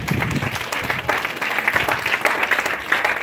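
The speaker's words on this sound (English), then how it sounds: "Give our teachers a round of applause." Graduation crowd at a high school ceremony applauding their teachers, a steady wash of many hands clapping at a moderate distance, sustained without pause.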